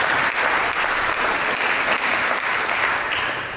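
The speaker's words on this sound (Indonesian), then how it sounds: "Dengan tepuk tangan bagi dia." Church congregation applauding together during a sermon, a dense, steady wash of many hands clapping at a constant level throughout, with no voices over it.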